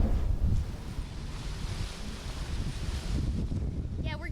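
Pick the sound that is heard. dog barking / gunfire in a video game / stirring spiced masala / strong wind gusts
strong wind gusts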